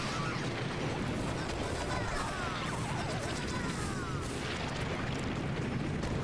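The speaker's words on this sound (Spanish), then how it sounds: "Se ha quedado parado ahí, soltando bombas" Dense, continuous crashing and booming from bombs going off in a Mario Kart Wii online race, a loud unbroken wash of explosions and impacts with no clear gaps.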